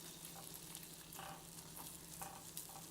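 A honey mixture heating in a pan gives a soft, steady sizzle and faint bubbling as it starts to boil, quiet and close with no voices.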